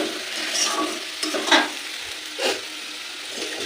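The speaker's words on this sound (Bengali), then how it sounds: "এটা ভাজা ভাজা হয়ে এসছে প্রায়" Food frying in a pan for a dal, potato and poppy-seed meal, with soft scraping stirs and a gentle sizzle, a few louder strokes of the spatula standing out.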